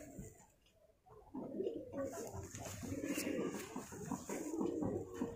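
Pigeons or doves coo close by in soft, low, rolling phrases that repeat, with a faint bird chirp and light background noise, no speech over them.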